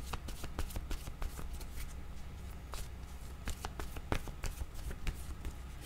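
Playing cards shuffled by hand for a tarot-style card reading, giving repeated soft riffling flicks and taps in quick irregular bursts, close and fairly quiet over a steady low hum, with no talking.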